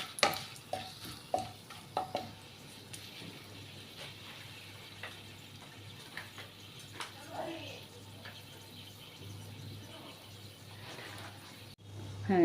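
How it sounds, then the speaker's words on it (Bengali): A spatula stirs chili, bay leaf, cinnamon and cardamom frying in oil in a pan, with scattered scraping knocks over a quiet, steady sizzle. "এবার একটু খুন্তি দিয়ে নেড়ে নিচ্ছি।"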